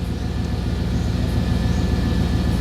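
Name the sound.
truck engine running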